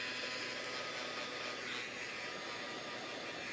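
Heat tool drying marker ink on a domino before stamping, a steady, loud blowing hiss that runs unbroken from start to finish, alone with no talking.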